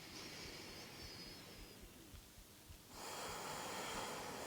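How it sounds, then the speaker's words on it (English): Slow, deep breaths during an intermediate vinyasa yoga class, a soft airy inhale and exhale heard close against a hushed, noisy background. "Take 5 deep breaths here on your own,"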